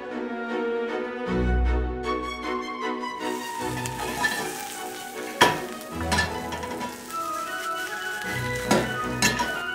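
Radicchio frying in oil in a pan in Northern Tuscany, a steady close sizzle with occasional clinks of utensils and pan, under music, with no talking.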